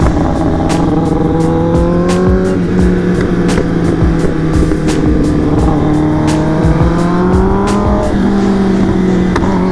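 A Kawasaki Ninja superbike engine revs loudly up close on a group highway ride, a rising and falling throaty drone with crackling pops running continuously, with other bikes and wind in the background.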